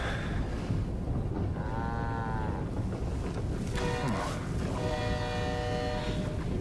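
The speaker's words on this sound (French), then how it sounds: "C'est une vache." A cow moos in several long, drawn-out calls with pauses between them, close and clear over a steady rustic background hum in a countryside setting.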